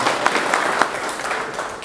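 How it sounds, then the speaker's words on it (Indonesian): A crowd claps together at an Indonesian public meeting with a BPH Migas official, a dense, steady patter of hands with a few sharper claps standing out, sustained evenly for the whole stretch. "Tepuk tangan dulu."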